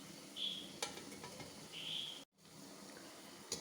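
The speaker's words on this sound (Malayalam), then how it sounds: "ഈ ഉഴുന്നുവട മൂത്തു കോരി എടുത്തേക്കാം." Urad dal vadas (Kerala-style uzhunnu vada) bubble and sizzle in hot oil, a steady close frying hiss with a few light utensil clinks and a brief cut in the sound.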